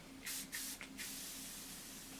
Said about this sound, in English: I've got a mini dry texturizing spray by Ouai.